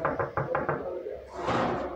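A gate outside a studio is knocked on in a quick run of five sharp raps, then a short pause and a rougher rattling bang. No words are spoken.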